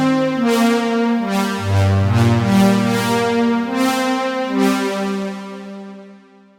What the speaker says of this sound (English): how to create a roll-in Juno style synth stab that's going to sound like this